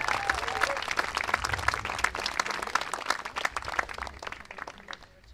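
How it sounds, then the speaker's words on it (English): An audience at the ANZAC Cup men's event gives the umpires a round of applause, a dense run of many individual claps that holds strong before tapering off near the end, with no speech over it. "another round of applause for our fantastic umpires."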